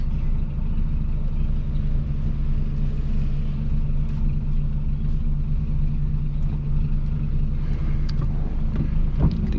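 Peugeot 206 1.4 ethanol-fuelled engine with a straight pipe, idling in a steady, deep, loud rumble that holds constant throughout with no talk.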